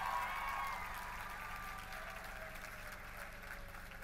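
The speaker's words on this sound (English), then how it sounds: "Can we give them a little bit of love and a round of applause too?" Soft applause from an audience at a youth awards night at the No Name Club, a steady patter of clapping that stays faint and fairly even, slowly tapering off across the few seconds.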